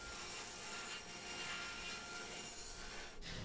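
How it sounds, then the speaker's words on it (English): A card scraper works across a walnut tabletop, making a steady, continuous dry scraping rasp that is close and even from start to finish, with only a brief dip near the end. "I was going to clean up a little card scraping action here."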